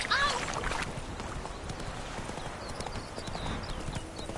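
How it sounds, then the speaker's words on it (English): A horse gallops in The Witcher 3, its quick clip-clop hoofbeats running steadily and close, with a brief voice at the start. "Run, Roach."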